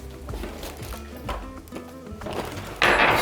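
A hand masher crushes boiled potatoes in a bowl for shepherd's pie, making a series of soft, close thuds and squelches, with a louder scrape of utensil against the bowl at the end.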